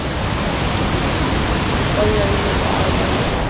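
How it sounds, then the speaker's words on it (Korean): A waterfall at a swimming spot near Luang Prabang, Laos, gives a loud, steady rush of falling water that fills the whole stretch as one continuous roar. "저 위에는 폭포가 있네. 폭포가 있어."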